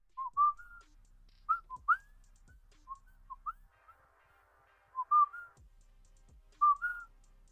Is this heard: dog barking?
no